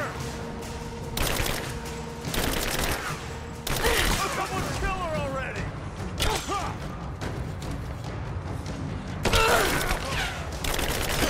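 Rapid gunfire bursts in the Tomb Raider video game, set inside a copper mill, with repeated loud volleys, clanking mechanisms and creaks. Shouting voices and game speech run over the shooting.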